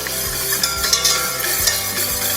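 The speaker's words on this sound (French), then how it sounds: "on commence par battre les jaunes avec le vinaigre et la moutarde" Whisk beating egg yolks with vinegar and mustard in a bowl to start a mayonnaise, a fast, steady scraping swish repeating throughout, close and alone.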